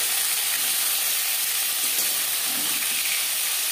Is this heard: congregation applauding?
no